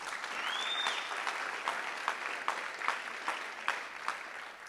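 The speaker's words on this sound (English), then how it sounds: "Please give them a round of applause, guys." An audience applauds after a performance, a steady wash of clapping from a crowd with a few louder individual claps standing out, sustained for several seconds.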